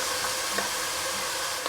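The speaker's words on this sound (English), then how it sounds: "those onions are softening up nicely, and that garlic is frying off as well" Onions and garlic frying in a pan, a dense continuous sizzle with faint stirring knocks, close and fairly loud.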